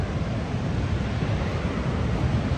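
River water rushes steadily over an automatically controlled weir in Munich, a dense, continuous roar that holds at an even level from start to finish with no pauses.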